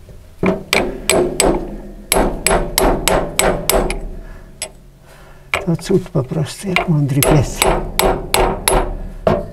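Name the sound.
hammering while replacing a bearing in a grain mill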